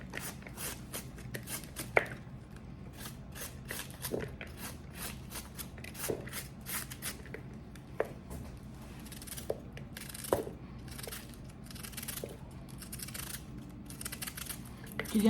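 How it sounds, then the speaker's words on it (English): A knife chops cabbage on a cutting board in steady, crisp close strikes, with some louder thuds, and a voice talks quietly now and then. "So I'm just cutting the cabbage out."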